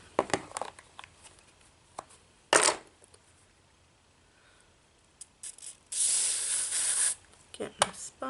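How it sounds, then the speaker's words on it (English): A spray bottle mists onto a makeup sponge in several bursts: one short sharp spritz and then a longer hiss, with a few small clicks and handling noises around them. "I'm going to spray this onto my sponge"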